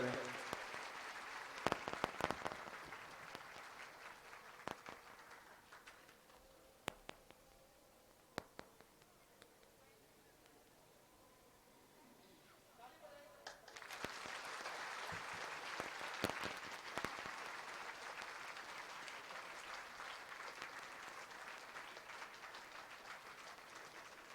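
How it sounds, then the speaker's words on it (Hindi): An audience at a youth meet in India welcomes a guest, an MLA, with applause: scattered claps at first, a quieter lull, then a broad, sustained round of clapping that carries to the end. "हम जोरदार तालियों के द्वारा उन्हें स्वागत करें।"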